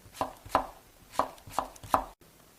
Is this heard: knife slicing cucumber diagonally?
yes